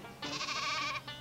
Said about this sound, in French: Avec des moutons.